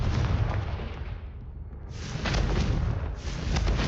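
Confringo blasting-spell explosions in Hogwarts Legacy: a deep, roaring burst that dips briefly, then erupts again into a second booming blast with a rumbling tail, loud and close.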